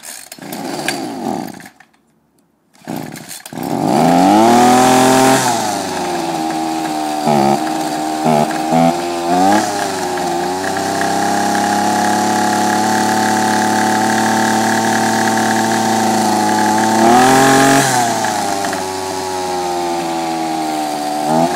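A Ryobi string trimmer's small two-stroke engine cranks briefly, catches and roars loudly up close, then settles into a steady buzzing idle with a few small dips and a short rev near the end.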